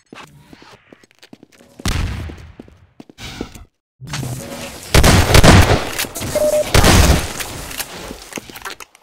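Gunfire in the video game Half-Life 2 Deathmatch comes in loud close bursts and fusillades with sharp cracks, separated by short quiet gaps, and a voice is heard at the start.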